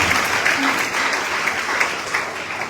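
A church congregation claps steadily and fairly loud throughout, a dense continuous applause with faint voices mixed in underneath.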